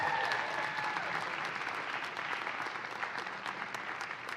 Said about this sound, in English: A big round of applause for Professor Mauna Kea.